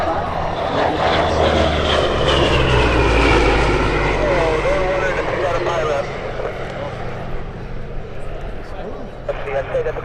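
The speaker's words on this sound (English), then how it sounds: "You got a P-38 flying top cover as we watch it go by." A P-38 Lightning, a twin-engine WWII fighter, flies overhead at a gathering of WWII fighters, a loud propeller-engine roar that swells and then fades as it passes; voices can be heard under it.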